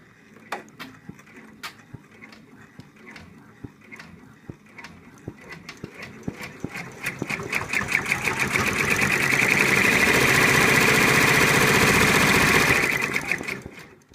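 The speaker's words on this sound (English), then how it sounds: "and we're going to stitch that out now." A multi-needle embroidery machine stitching an in-the-hoop stuffed elephant, starting with sparse clicks and taps, then building to a loud, steady, rapid mechanical chatter that runs for several seconds before stopping abruptly.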